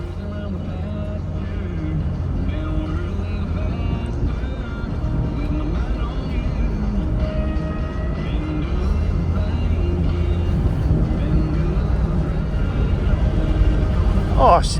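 Interior road noise of a classic car on a test drive, a steady engine and tire drone with rattles and creaks, under intermittent talk.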